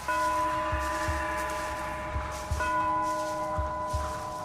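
Steady ringing bell tones at sunset with sustained, overlapping overtones fill the scene, accompanied by a low rumble and occasional soft thumps beneath.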